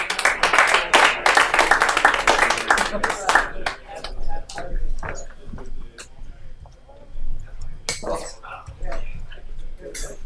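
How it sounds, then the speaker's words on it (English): Scattered applause from a small live comedy audience greets the next comedian, a dense burst of claps that thins into sporadic individual claps, with voices and clinking glassware in the room. "Give a round of applause for Phil Burns"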